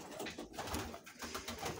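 Pigeons coo softly in a loft, a faint, continuous murmur of overlapping low calls with rustling close by.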